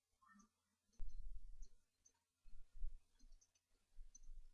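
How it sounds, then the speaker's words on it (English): A faint computer mouse double-click, a single quick click pair standing out against a quiet background with a few soft low thumps around it. "if we double click on this record"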